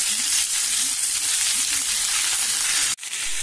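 Fresh spinach wilting in a hot pan gives off a steady, loud sizzle and hiss that barely changes, close up, with a brief sharp break near the end and no voices.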